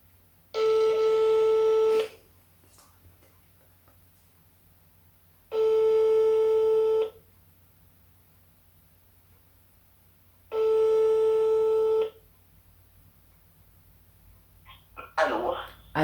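An iPhone call on speakerphone sends out three loud, evenly spaced ringback tones with quiet gaps between them, and a voice begins at the end.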